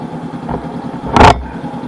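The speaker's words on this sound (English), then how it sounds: "Wow, there's traffic." Riding a 2019 Honda CB500X motorcycle through commuter traffic in China, with a steady hum of road noise and a brief, louder passing vehicle rising and fading around the middle.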